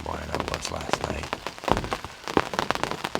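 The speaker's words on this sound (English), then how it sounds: "tonight, unfortunately, it's pouring rain, as you could probably hear" Pouring rain drums steadily on a hunting ground blind in the evening, a close, dense patter with sharper drop hits throughout, while someone talks over it.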